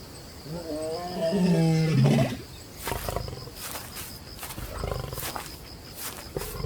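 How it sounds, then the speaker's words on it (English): A male lion roars on the savannah at dusk, a deep drawn-out moaning call followed by a series of rough grunting roars, loud and close against outdoor ambience. "As dusk falls, the roar of the male lion echoes across the savannah,"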